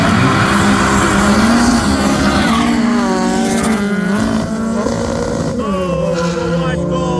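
Naturally aspirated Mark 1 cars launching in a drag race, engines screaming at high revs with rising and falling gear-change sweeps, loud and close throughout.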